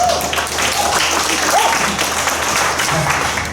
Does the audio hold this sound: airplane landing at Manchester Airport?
no